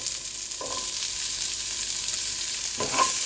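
Garlic and bell pepper sautéing in a pan, a steady soft sizzle with two brief scraping stirs of a utensil against the pan, no talk.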